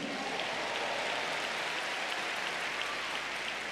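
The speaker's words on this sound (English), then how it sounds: "Clap your hands if you believe it." A church congregation claps their hands during a sermon, a steady, dense wash of applause from many people with no talk over it.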